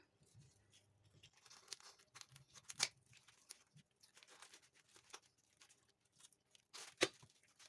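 A package of fesikh, Egyptian salted fish, is torn and crinkled open up close, with irregular ripping bursts and rustles and a sharper tear near the end.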